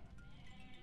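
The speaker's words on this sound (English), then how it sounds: "Sheep." A sheep in the Age of Empires 2 video game gives one brief, quiet bleat, a short nasal cry heard on its own.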